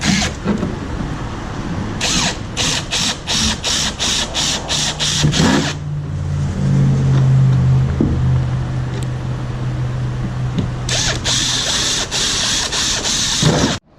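A drill driving a 5/8 auger bit into wood, loud and close, with a steady grinding whir broken by short bursts, a lower straining stretch midway, then more rapid pulsing runs.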